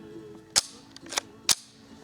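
A Marlin Model 60 rifle fires .22 LR rounds, three sharp, light cracks spaced roughly half a second to a second apart, close and brief, over faint background hum.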